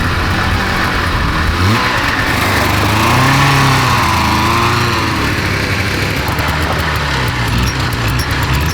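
A 2-stroke 440cc budget cross kart engine revs loudly and continuously up close, its buzzing pitch climbing and dipping through several throttle sweeps.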